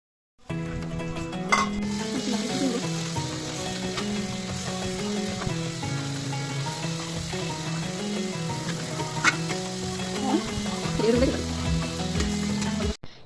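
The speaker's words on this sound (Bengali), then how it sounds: "এর জন্য চিংড়ি মাছগুলোকে ভালোভাবে ভেজে নিচ্ছিলাম" Prawns fry in a pan with a constant dense sizzle, a couple of sharp utensil clinks and a low tonal hum running underneath, steady from start to finish.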